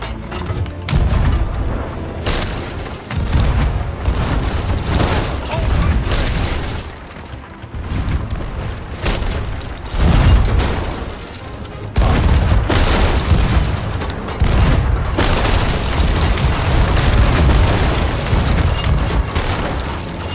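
Ship cannons fire in Sea of Thieves, with loud, heavy booms repeating over the whole stretch, some close together in bursts and others separated by short lulls.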